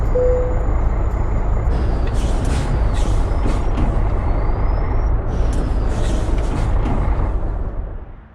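Freightliner FLB truck in American Truck Simulator, a steady diesel rumble with sharp hissing air-brake releases and a faint reversing-style beep, loud and close, fading out at the end.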